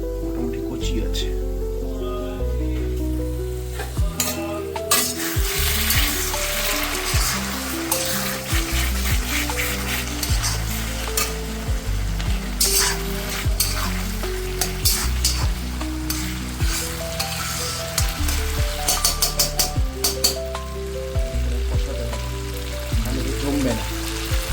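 Masala sizzles and fries in a pan while being stirred before chicken is added, a steady crackling hiss broken by scraping stirs, with a voice talking over it and kitchen clatter.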